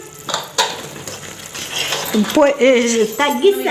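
Flour is stirred into hot jaggery syrup for ariselu, giving scraping and clinking of a utensil against the pot, and a voice speaks over the later part.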